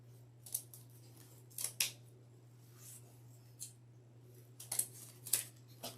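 Scissors snip deco mesh for a wreath in a handful of sharp, close cuts spread unevenly over a few seconds, over a steady low hum.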